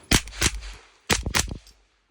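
A B&T TP9 fitted with a B&T suppressor fires two close, loud groups of muffled shots: two quick shots, a pause, then a rapid burst of about four.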